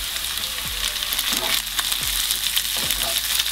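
Bell pepper and carrot fry in a pan with a loud, steady sizzle, broken by a few soft scrapes and stirring knocks, close up and without speech.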